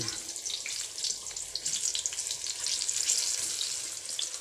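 Saba bananas fry in hot oil, a bright, dense, continuous hiss and crackle that swells toward the end, with no voices.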